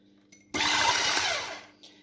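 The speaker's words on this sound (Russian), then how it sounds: "Просто для быстроты буду использовать миксер." An electric hand mixer beats eggs with salt in a bowl, switching on abruptly into a loud, steady whirring buzz for about a second and a half before winding down and stopping.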